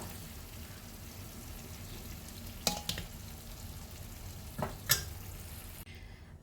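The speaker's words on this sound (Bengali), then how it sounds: "এইভাবে আস্তে আস্তে প্রেশার কুকারে সব কটা মাংস দিয়ে দেবো" Country chicken pieces drop into hot oil in a pressure cooker with a soft, continuous sizzle, broken by a few clattering stirs and thumps.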